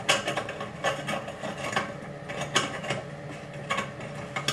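A basin pop-up waste nut is tightened with Cobra pliers, producing faint, close ratcheting clicks and scraping rubs in uneven bursts, with no talk.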